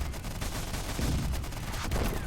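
Artillery fire in a video game battle involving a giant heavy tank, a dense rumbling barrage of low booms and crackling shots rolling on continuously at moderate loudness, no speech.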